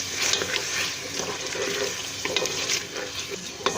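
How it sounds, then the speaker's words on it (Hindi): Onion, potato and cauliflower stirred and sautéed in a pan, a soft steady sizzle with faint scraping stirs, quiet and close, with no talking. "हम अच्छी तरह से मिक्स करेंगे, अच्छी तरीके से भूनेंगे"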